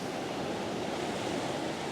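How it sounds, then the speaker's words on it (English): Ocean surf washes steadily onto a beach during a fishing outing, a constant broad hiss and rumble of breaking waves at moderate distance, with no voices. "Oh, here comes a wave."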